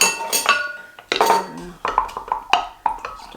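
Kefir water is stirred in a container, a utensil clinking and scraping against the sides in a quick series of sharp, close knocks and rings.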